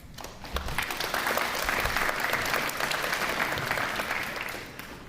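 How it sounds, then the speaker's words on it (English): Sustained applause fills a school recognition ceremony for eighth graders, a dense steady clapping from a seated audience that swells and holds for several seconds before tapering slightly at the end, with no speech over it. "We can wait on applause."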